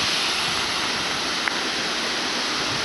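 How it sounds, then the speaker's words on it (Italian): A garden waterfall in Rome's EUR district pours down in a steady, dense rush of splashing water, loud and close, continuous throughout without voices. "Continuiamo con le cascate"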